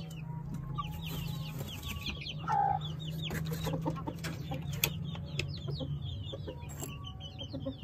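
Hens and a rooster shut in a cage cluck and squawk in repeated short calls, with a steady low hum beneath them and no talk.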